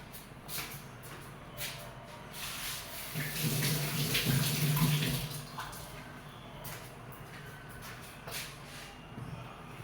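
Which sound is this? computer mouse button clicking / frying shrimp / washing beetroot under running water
washing beetroot under running water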